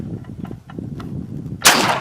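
A single sharp Sig Sauer P210 A pistol shot fired from a rest, a loud crack near the end after a short quiet stretch, with faint background noise before it.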